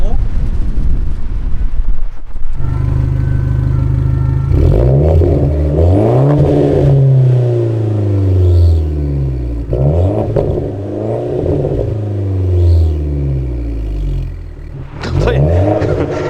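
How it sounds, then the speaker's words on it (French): An Alfa Romeo car engine starts up close and loud, then revs repeatedly in several rising and falling surges, with a clattery edge. People talk around it. "tu peux nous la démarrer, frérot, s'il te plaît, qu'on entende?"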